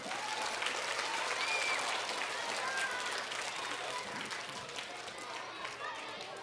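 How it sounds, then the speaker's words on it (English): An audience at a school arts-in-education assembly applauds a teacher volunteer, with sustained clapping that fades slightly toward the end and voices mixed in beneath. "Let's give her a big round of applause."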